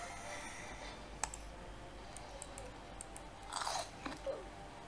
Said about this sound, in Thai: วันนี้เราจะมากินผลน้ำแข็งกันด้วยครับ